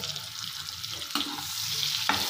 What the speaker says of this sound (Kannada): ಈ ಮೊಟ್ಟೆನ ಫ್ರೈ ಮಾಡ್ಕೋಬೇಕು